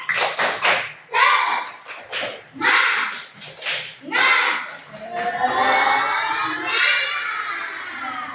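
A classroom of schoolchildren claps a rhythmic spirit chant, bursts of sharp claps in patterned groups mixed with their shouted chanting, ending in a long drawn-out cheer.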